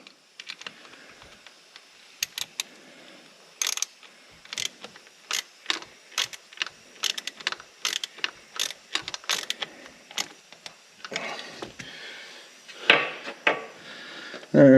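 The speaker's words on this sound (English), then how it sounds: "3/8 ratchet." A 3/8 ratchet turns on the engine of a Can-Am Maverick X3 during a spark plug change, giving close, sharp clicking bursts in uneven runs with brief pauses between strokes.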